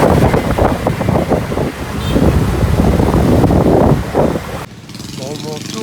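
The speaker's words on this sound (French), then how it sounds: "le vent s'est mis à souffler très fort" Strong storm gusts in Da Nang, Vietnam buffet the microphone in loud, rumbling bursts, then drop away abruptly near the end, leaving a quieter outdoor background.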